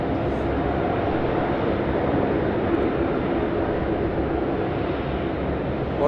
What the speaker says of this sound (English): Alright, Qantas, Boeing, 737-800, here we go.